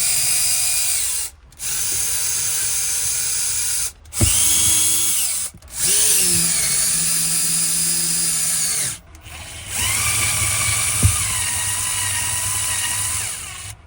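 A power drill runs in several long, steady whirring bursts with brief stops between them while bolting rear seat parts into a Porsche 993 interior. The tool sounds close and fairly loud, its pitch shifting under load, and no one speaks.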